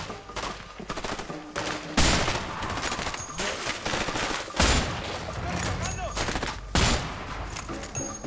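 Gunfire in the co-op action video game A Way Out comes as rapid volleys and bursts of shots that repeat loudly throughout, with sharp cracks punctuating the sustained firing.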